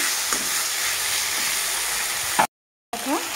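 Taro greens (kochu shak) with torn green chillies crackle and sizzle steadily in a hot pan as they are stirred, a close, continuous frying hiss broken by a brief gap near the end.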